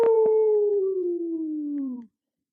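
A voice imitates a wolf howl, one sustained tonal howl that slowly falls in pitch over about two seconds and then stops, close and clear with no other sound.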